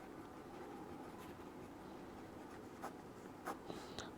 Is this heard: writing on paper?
yes